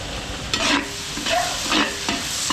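Garlic and onion sizzle in a hot pan as a base for pancit, with a steady fry and three or four rhythmic scraping stirs spaced about half a second apart, close and moderately loud.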